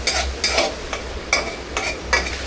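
Onion and tomato fry and sizzle in a pan while a spoon scrapes and stirs them in several quick strokes, with a steady hiss beneath. No voices.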